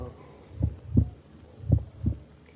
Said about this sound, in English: Listen to the heart beat its last beats.